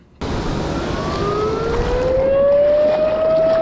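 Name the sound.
warning siren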